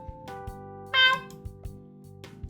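A cat gives one clear, close meow partway through, over a steady background of quiet electronic tones and soft clicks, with no talking.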